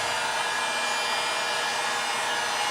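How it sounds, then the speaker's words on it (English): A heat gun blows a steady, loud rushing airflow across silicone, a constant broadband whoosh with no clear pops standing out and no talking. "Sometimes they just pop right up as soon as the heat gun hits it, and sometimes it takes a little bit longer."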